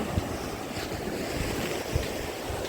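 Sea waves wash onto the beach at Karolino-Buhaz with a steady surf roar, irregular breaking swells and gusts of wind buffeting the microphone, with no voices.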